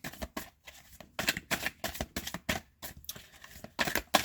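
A deck of cards being shuffled and cut by hand, a quick series of soft riffling bursts and taps, close and fairly quiet, with no talk.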